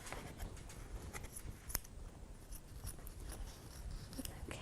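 Scissors snip through paper while trimming out a Christmas ornament, a quiet, close series of crisp, irregular cuts with one sharper snip partway through, in an otherwise still room.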